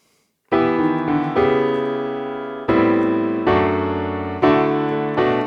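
Piano plays the bridge leading into the chorus of a worship song, with full sustained chords struck about every second, ringing clearly with no voices.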